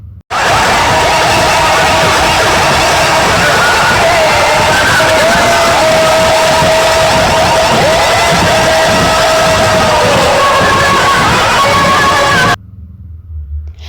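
Large festive crowd at a Ganesh immersion procession in Chandur Bazar, with a dhol-tasha drum troupe and DJ music; dense, loud, continuous roar of voices and drumming with a sustained tone running through, cutting off abruptly near the end.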